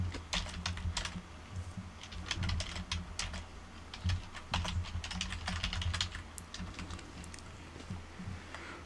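Someone types C++ code on a computer keyboard in close, steady bursts of quick key clicks with brief pauses, quiet and without talking.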